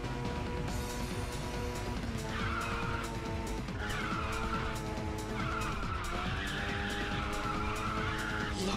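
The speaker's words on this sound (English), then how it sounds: "I love drifting in this game, it's so satisfying." A car drifting in the Ridge Racer 6 racing game, its engine droning loudly and continuously while tires squeal in long, wavering screeches through the corners.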